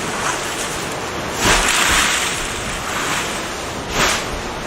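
Ocean waves roll onto a desert island shore with a loud, continuous wash, and two swelling surges stand out. Wind noise blends in, and no one talks.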